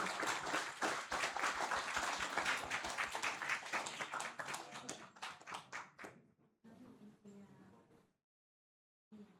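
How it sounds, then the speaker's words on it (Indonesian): An audience at a thanksgiving ceremony for the Mani House Medan building claps in a dense, loud burst of many hands, which thins out and fades to scattered claps and near silence. "Boleh hadirin tepuk tangannya yang meriah."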